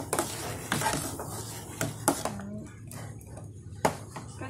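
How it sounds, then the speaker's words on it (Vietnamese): A utensil scrapes and clanks inside a large pot of jelly mixture for layered rau câu sơn thủy, making irregular knocks and scraping strokes at close range, with steady kitchen noise underneath. "Mình sẽ quậy luôn cái nồi lớn chứ không nó sẽ đặt lại nha các bạn"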